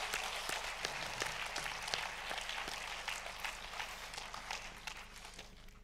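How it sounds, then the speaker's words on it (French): Audience applause at a film festival award ceremony, a fairly faint, continuous patter of many hands clapping that slowly thins toward the end, with no speech over it. "Sous vos applaudissements, mesdames et messieurs, Álvaro Brechner,"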